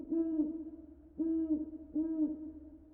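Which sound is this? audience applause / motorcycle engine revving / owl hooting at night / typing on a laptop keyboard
owl hooting at night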